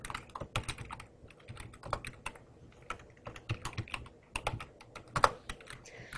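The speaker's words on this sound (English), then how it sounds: "And then I'm going to just type in a couple of names." Someone types names into a spreadsheet on a computer keyboard, with close, fairly quiet keystrokes tapping in irregular bursts and short pauses, no voices.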